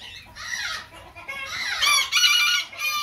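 A rare hookbill duck with angel wing gives a run of loud, close, raspy calls in quick succession, rising and falling in several bursts with brief gaps between.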